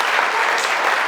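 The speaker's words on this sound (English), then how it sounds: "Can you give them a round of applause, please?" A crowd at a university young-alumni panel event gives a dense, steady round of applause, loud and continuous with no gaps for the whole moment.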